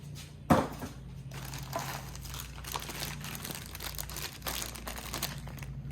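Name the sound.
pressure washer part unwrapped from crinkling plastic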